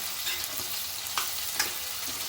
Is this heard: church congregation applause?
no